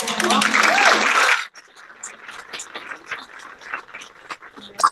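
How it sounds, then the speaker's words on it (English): An audience at an innovation award ceremony claps loudly for about a second and a half; the applause stops sharply and a single voice then speaks. "so a round of applause"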